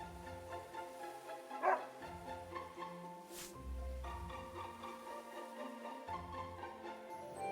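A dog in the video game Another Code: Recollection gives a few quick barks and yips over quiet background music, with short pauses between the calls.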